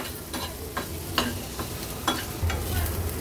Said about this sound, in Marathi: आता कांदा छान गोल्डन ब्राऊन कलरचा होईपर्यंत आपल्याला हा तेलावरच परतून घ्यायचा आहे।